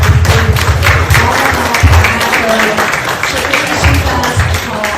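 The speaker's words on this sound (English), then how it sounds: "So round of applause to everybody." A crowd applauds steadily at a library volunteer event, dense clapping filling the room at a strong, even level. Scattered voices murmur underneath.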